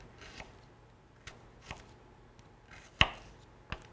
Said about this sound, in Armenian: Եվ հաջորդ կտորն էլ կտրատենք ու անցնենք